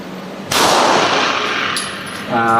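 One sharp, loud 9mm shot from a CZ P10C pistol with a sustained reverberant tail, then a brief metallic clink and rising background noise at the end.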